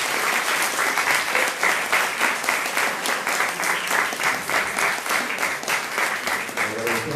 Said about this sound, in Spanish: un aplauso muy fuerte para los ponentes